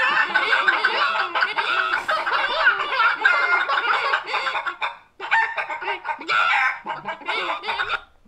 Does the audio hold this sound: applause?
no